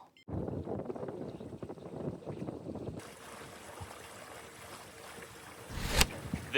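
A motorized fishing kayak moves across open water, with wind buffeting and a low hull rush, then a steadier wash and hum of motion, ending in a brief loud splash or knock.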